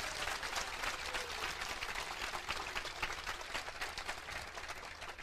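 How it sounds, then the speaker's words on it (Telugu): Audience clapping at a church conference, a steady broadband wash of many hands applauding together for several seconds, fairly even in level with no voices standing out. "Can you clap for Jesus?"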